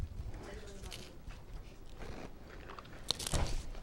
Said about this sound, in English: The chip is so perfectly like crunchy.